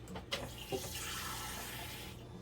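Tablespoons of water from a kitchen tap running into a bowl of cornstarch for sweet and sour chicken, a steady close hiss of flow lasting about two seconds, with no talking.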